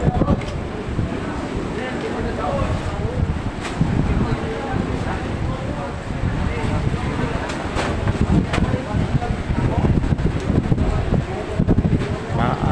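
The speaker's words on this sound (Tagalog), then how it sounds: "Alon, malakas ang alon, malakas ang hangin." Strong wind buffets the microphone while waves surge and crash nearby at a fishing port in the Philippines, a constant roar over the whole stretch.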